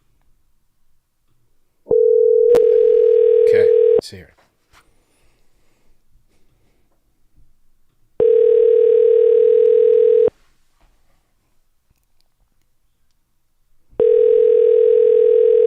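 A telephone call rings out, with three long ringback tones evenly spaced and separated by silence, loud and clear. A brief voice speaks near the start.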